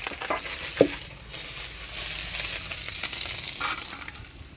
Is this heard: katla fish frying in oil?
yes